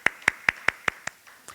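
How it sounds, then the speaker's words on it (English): Clapping at a town hall meeting: about six evenly spaced, crisp claps in a quick rhythm, close and distinct, tapering off into a couple of softer ones. "that deserves a round of applause"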